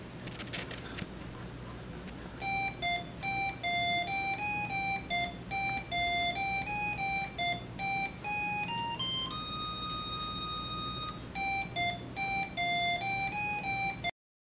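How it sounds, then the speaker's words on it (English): Chirpy electronic beep melody from Wheel of Fortune running on a 1987 Tandy 1400LT laptop, a string of square-wave tones stepping up and down in a tune, one long held note partway, faint and alone. "So now I can run Wheel of Fortune."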